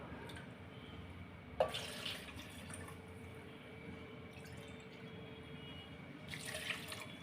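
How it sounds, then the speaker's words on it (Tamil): Water pours into a mixer jar at a home kitchen, a faint steady trickle with a couple of brief splashy bursts, quiet and close. "இப்போ இதால் ஒரு ரெண்டு கப் தண்ணி சேர்த்து நல்லா இதை அரைச்சி எடுத்துகிட்டு வரலாம்"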